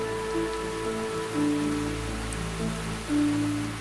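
Heavy summer storm rain falls on the Drakensberg mountain meadows as a steady, dense patter with a low droning hum underneath.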